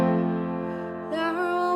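Piano plays a short passage of a song from Hamilton, with sustained chords up close and a higher melodic line entering partway through, no voices.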